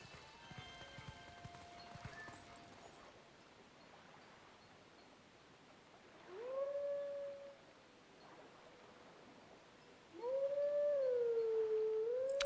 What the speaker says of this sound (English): just do your little wolf howl and call him in